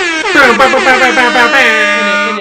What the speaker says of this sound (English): We need give that an air horn real quick then